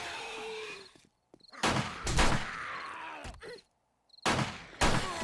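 Gunfire in the video game 7 Days to Die: several loud, close shots in bursts separated by brief gaps, with grunts and groans mixed in.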